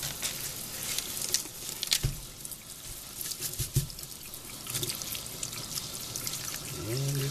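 Cold water runs and trickles over freshly foraged dandelion greens, with splashes and drips, intermittent pouring and a few clinks of handling close by.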